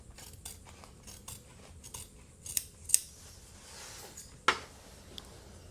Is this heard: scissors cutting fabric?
yes